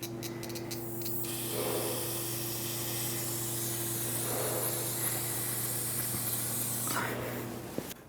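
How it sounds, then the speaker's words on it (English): Brake parts cleaner sprayed onto the rear brake area of a 2012-2018 Nissan Altima during a brake hose replacement, a long continuous close hiss with a few brief surges, over a steady low hum. "spray it off with brake parts cleaner"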